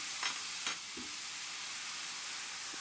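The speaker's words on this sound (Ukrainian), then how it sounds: "Тепер я додаю одну столову ложку соєвого соусу" Steady hissing sizzle of a hot frying pan throughout, with a couple of brief spatters as a tablespoon of soy sauce hits the oil.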